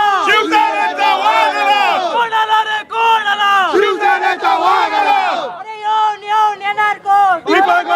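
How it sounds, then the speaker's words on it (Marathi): Crowd of party workers cheering and chanting at an election victory celebration, loud repeated shouts and whoops rising in waves close by, with bursts of voices throughout. "निश्चितच युवा सैनिकांचा जल्लोष आपल्याला या ठिकाणी पाहायला मिळतोय"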